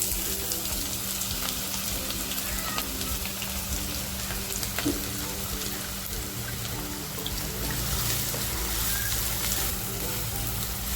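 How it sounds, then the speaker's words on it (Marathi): Chopped onion and whole spices sizzle in hot oil in a pan while a mutton masala gravy is cooked. The frying makes a steady, dense crackle and hiss from start to finish, with no talking over it. "तेल बघा आपलं तापलेलं आहे जे खडे मसाले घेतलेत ना ते टाकते अगोदर जो कांदा कापून घेतलाय तो कांदा टाकते"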